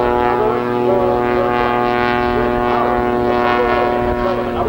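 A vintage propeller airplane with a wing walker on top flies at an airshow in Cleveland in 1987, its engine drone loud, steady and tonal for the whole stretch, with no voices over it.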